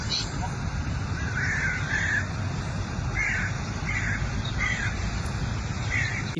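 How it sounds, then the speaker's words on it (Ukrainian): Crows caw repeatedly in short bursts, several harsh calls spaced across the clip, over a steady noisy background and a voice talking. "Як ми чуємо, ворони просто в захваті."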